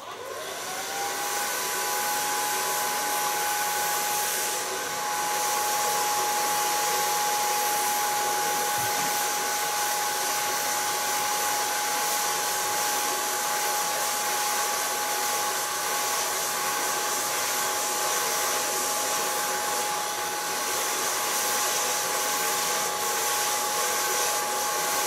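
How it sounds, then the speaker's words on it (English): A hair dryer blow-drying freshly colored soft pink hair runs continuously for about 25 seconds, a loud steady airy roar with a whine that climbs as it spins up, heard close and without talking. "So I'm gonna blow dry it."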